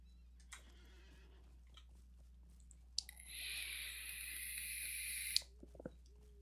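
A horse in the online game Lord of the Rings Online gives a steady, shrill whinny-like call lasting a couple of seconds, preceded and followed by faint clicks and soft game effects over a low hum.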